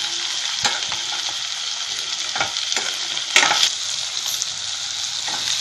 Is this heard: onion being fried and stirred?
yes